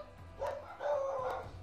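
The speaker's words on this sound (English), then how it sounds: "By the way, I have dogs, if you can't hear them." Small dogs bark and yip faintly in the background indoors, a few short high-pitched calls in quick succession, distant and quiet.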